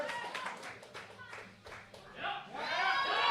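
A charity strongman event crowd claps and cheers for a lifter's third log lift attempt, with scattered rhythmic claps building into louder cheering near the end, mixed with a voice talking over it.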